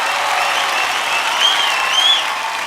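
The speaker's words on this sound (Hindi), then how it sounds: "माधुरी दीक्षित जी के लिए जोरदार तालियां।" Loud, sustained applause from a large audience at the Filmfare Awards show, thick continuous clapping with a few whoops rising above it.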